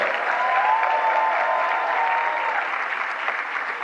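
Steady, sustained applause from an audience at a women-in-leadership awards ceremony, a dense even wash of clapping that holds at a constant level for nearly four seconds.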